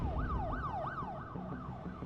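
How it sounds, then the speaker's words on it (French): An emergency siren wails in repeated rising-and-falling sweeps about every third of a second, moderately loud over a low traffic rumble, no voices present. "Une sirène"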